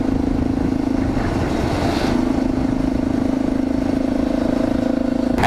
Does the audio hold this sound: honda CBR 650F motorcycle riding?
yes